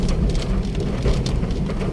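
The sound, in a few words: heavy rain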